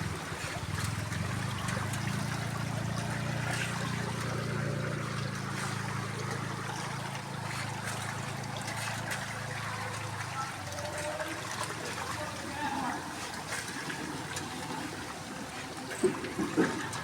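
Floodwater flowing across a submerged city street in front of a public library, a continuous broad wash and rush of water heard close for the whole stretch, with a low rumble early on and a few faint knocks near the end.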